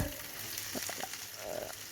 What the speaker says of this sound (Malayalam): എണ്ണയിൽ തന്നെ പച്ചമുളക് ഇഞ്ചി വെളുത്തുള്ളി അതൊന്ന് നന്നായി മൂപ്പിച്ചെടുക്കണം